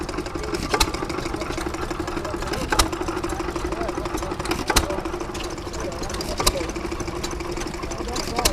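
An Amanco hit-and-miss stationary engine runs at a show, a steady mechanical chugging with sharp periodic firing beats about every two seconds and other engines nearby.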